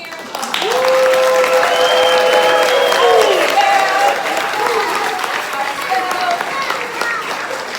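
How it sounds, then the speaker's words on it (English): An audience at a chess club team awards ceremony at the Detroit Institute of Arts breaks into loud, sustained applause with cheering. Voices call out over the crowd noise, and the clapping slowly fades but keeps going. "I want us to rumble one more time and clap it up for ourselves, all the parents"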